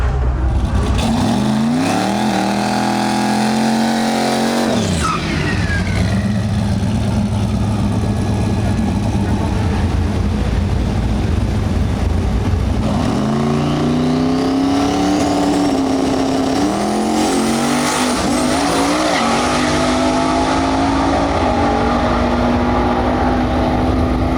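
A V8 car at the LS Fest East drag racing track revs hard, with rising and falling engine sweeps, idling between pulls and other engines nearby, loud and close with a voice talking over it.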